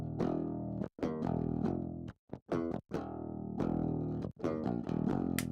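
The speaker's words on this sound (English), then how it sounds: "here's what a guitar sounds like without this" Clean, undistorted electric guitar without the Fortin Nameless amp, chugging chords for a metal cover, close and loud with brief gaps between phrases.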